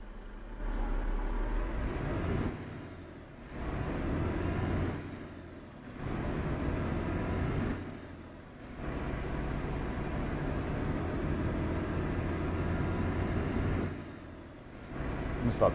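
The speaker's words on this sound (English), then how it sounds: "I just thought the engine in this truck sounded pretty decent too." A Renault truck engine in Euro Truck Simulator drones steadily, dipping into brief lulls at gear shifts every few seconds, with a low rumble and a faint hiss on top.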